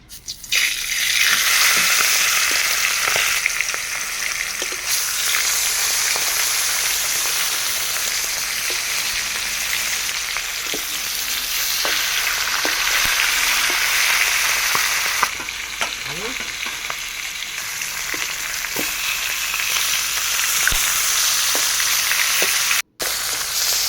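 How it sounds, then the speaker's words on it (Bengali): Fish heads frying in mustard oil in a wok give a steady, close sizzle with scattered sharp crackles and spits throughout, and no one speaks. "কড়াইয়ের মধ্যে একটু সর্ষের তেল দিচ্ছি মাছটা ভাজার জন্যে তারপরে একে একে মাছের মাথাগুলো আমি তেলের মধ্যে দিয়ে দেবো"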